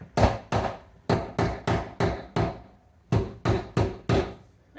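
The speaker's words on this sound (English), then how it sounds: "I'm just hammering until it kind of stops moving" Sharp hammer blows drive a hydroponic kit stand into the ground in quick bursts, about a dozen solid knocks with short pauses between groups, close and loud with no talking.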